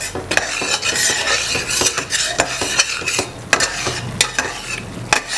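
Gravy seasoned with red chili powder sizzles in a pan while a spoon stirs and scrapes repeatedly against the metal, loud and close, with no talking.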